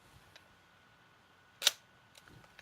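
A Zorki 4 film camera fires its shutter once, a single sharp metallic click up close, with a few faint ticks of handling around it in an otherwise quiet room.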